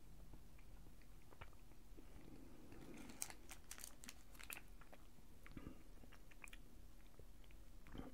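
Someone wearing dentures chews a bite-size caramel candy bar, giving soft sticky crunches and wet clicks scattered irregularly over about eight seconds, close but quiet against a faint background hum, with no talking.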